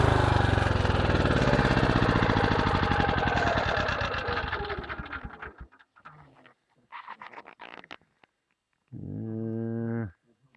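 Generator engine with about 2,500 hours of running, heard close and loud with a steady chugging drone that winds down and stops partway through, followed by a few scattered clunks and a brief tonal hum.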